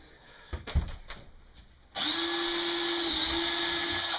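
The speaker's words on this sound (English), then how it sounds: "Drill a hole" A few faint knocks and handling sounds, then a power drill whines loudly and steadily at high speed drilling a hole during a garden tub removal, running continuously to the end.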